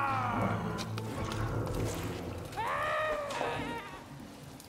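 In the video game TSIOQUE, a cat gives two drawn-out, wavering meows, the second louder, over a low game backdrop.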